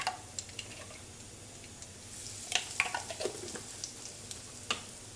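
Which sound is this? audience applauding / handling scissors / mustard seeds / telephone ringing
mustard seeds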